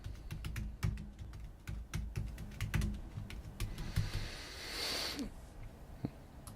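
Typing on a computer keyboard while drafting a layout in Rhino, a close, uneven run of key clicks with a few louder thumps and pauses and no talking.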